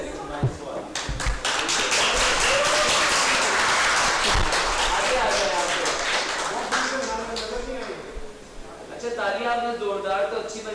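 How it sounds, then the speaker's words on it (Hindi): An audience at a leadership day event claps loudly and continuously, a dense wash of applause that swells and then thins out, with no talking over it. "तालियां आपने जोरदार तो अच्छी बजाई ना"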